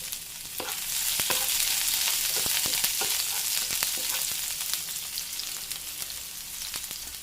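Chopped shallots dropped into hot oil with mustard seeds already spluttering, a dense close sizzle with scattered sharp pops and crackles over the whole stretch, alone without voices, for Kerala-style cauliflower thoran.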